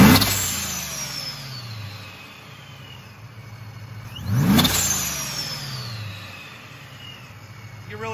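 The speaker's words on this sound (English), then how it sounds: "Well, I figure everybody probably wants to hear a little noise, so we'll give just a couple revs to it." A supercharged Ford F150 with a Vortech supercharger revs twice, each engine surge rising to a whining supercharger note and then falling away with a blow-off valve release.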